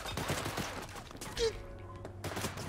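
Gunfire in the video game Cyberpunk 2077, a dense burst of shots in a firefight with a louder blast near the middle, trailing into sparser cracks and a faint electronic whine.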